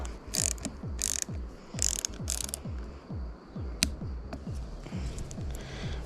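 A ratchet wrench clicks in quick repeated strokes as parts are tightened during assembly of a Marin Alpine Trail 2024 mountain bike, close and fairly quiet, with a few brief brighter clinks and no talk.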